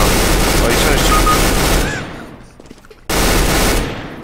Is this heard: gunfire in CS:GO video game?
yes